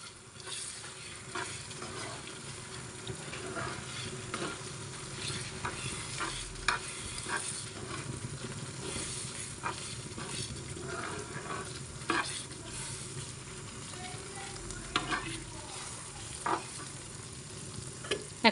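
Garlic pickle sizzles and scrapes in a pan as a spice mix is stirred through it, with a steady soft frying hiss and frequent light spoon knocks over about eighteen seconds, fairly quiet and with no talking.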